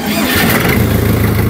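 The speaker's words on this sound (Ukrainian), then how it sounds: "Так, заводимо джинму." A Jinma 404 tractor with a four-cylinder engine cranks and fires up. It is loud and close, settling quickly into a rapid, steady chugging idle.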